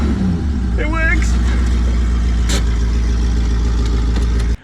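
LS1 V8 engine swapped into a Nissan Patrol idles with a steady, loud low rumble throughout, a brief rising whine near the start, then cuts off abruptly at the end.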